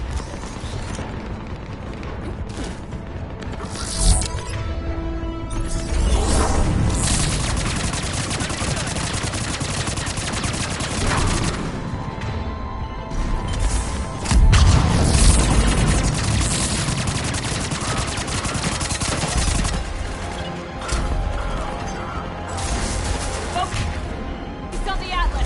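Sustained heavy gunfire and cannon blasts from a Mass Effect 3 battle, dense and loud throughout with bursts of automatic fire, mechanical clatter and voices talking amid the combat.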